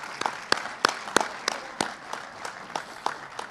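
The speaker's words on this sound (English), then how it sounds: "So maybe you could join me in a round of applause for these guys." Audience applause at a school board of education meeting: a short burst of scattered hand claps, moderately close, with uneven sharp claps spread across the room and no talk over it.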